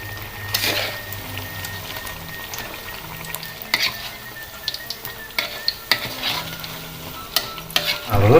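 A Sundanese sorabi pancake frying in a pan, giving a steady low sizzle with scattered clicks and light scraping taps, close and without speech.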